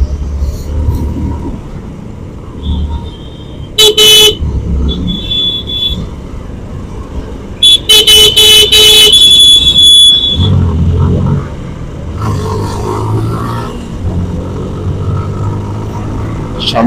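A road traffic jam: engines rumble constantly nearby while car horns blare in short bursts, with a longer cluster of honking partway through.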